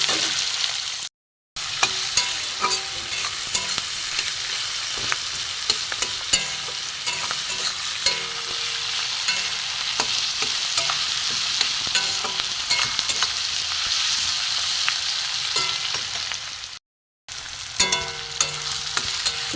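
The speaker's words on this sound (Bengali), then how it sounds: "পেঁয়াজ টমেটো কুচি দিয়ে একটু ভাজবো, যতক্ষণ না এই পেঁয়াজটা নরম হয়, টমেটো নরম হয়, একটু ভালো করে ভেজে নেবো।" Chopped onion and tomato fry in a little oil, a continuous close sizzle mixed with repeated scraping and stirring strokes over the whole stretch, broken by two brief silent gaps; no voices.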